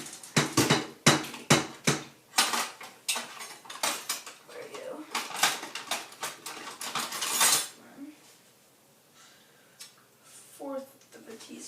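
Metal kitchen utensils clatter and jangle in rapid bursts while someone rummages through a drawer for a teaspoon, followed by a quieter stretch with a faint voice.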